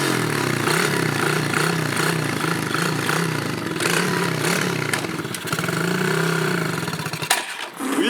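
A small engine runs loudly and close, idling with a throbbing rhythm and slight revving, then cuts out briefly near the end.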